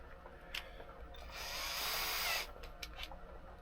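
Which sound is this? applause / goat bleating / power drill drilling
power drill drilling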